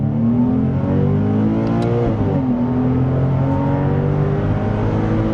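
A 996-generation Porsche 911 engine roars loudly at full throttle, its pitch climbing steadily, with a brief dip as a gear changes before the revs rise again.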